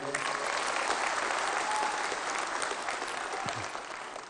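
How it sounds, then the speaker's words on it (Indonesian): A crowd at a PAN party anniversary speech claps steadily and loudly throughout, a dense unbroken wash of applause. "Bapak Letjen Purniawan Prabowo Subianto, boleh tepuk tangan yang meriah."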